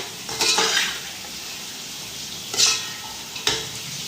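Bell pepper and carrots stirred in a pan, with a few soft scraping, clattering bursts of spoon against metal over a steady low sizzle; no talking.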